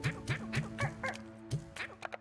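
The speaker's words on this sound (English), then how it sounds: "look at these freaking chickens. The chickens spawn like crazy in this game" Chickens in Slime Rancher 2 clucking close by, a quick rhythmic run of about eight short clucks, then a few sharper scattered calls at the end.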